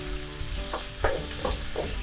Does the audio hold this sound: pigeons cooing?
no